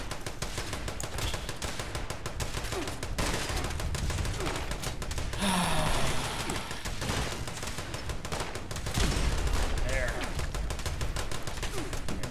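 Gauss rifle firing in the video game Fallout 76 is heard as a dense, continuous run of loud shots and impacts throughout, with brief quieter gaps between bursts.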